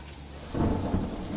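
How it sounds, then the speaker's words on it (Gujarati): Heavy monsoon rain comes down in Godhra, Panchmahal, with a deep rumble of thunder rolling in midway. A steady downpour continues underneath and no voices are heard. "તો પંચમહાલના ગોધરામાં ધોધમાર વરસાદી માહોલ।"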